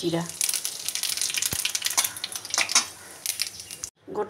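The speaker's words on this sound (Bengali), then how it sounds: "ভালো মতো দুটো শুকনো লঙ্কা কালো কালো করে ভেজে নেব।" Dried red chillies frying in hot oil in a wok produce a busy, close crackling sizzle with occasional utensil clinks that stops abruptly near the end.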